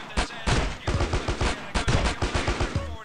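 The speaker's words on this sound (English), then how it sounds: "I'm hearing the gun noise." Rapid automatic gunfire rattles through a video game shootout against cultists, with dense bursts of shots going nearly nonstop, loud and close.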